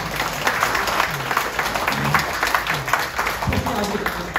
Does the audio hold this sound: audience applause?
yes